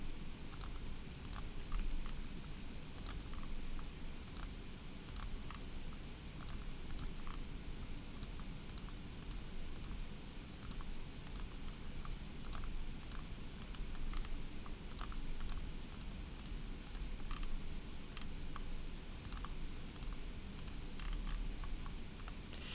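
A mouse clicks in the Entry block-coding editor, with quiet scattered clicks and taps spread irregularly over a soft steady room hiss.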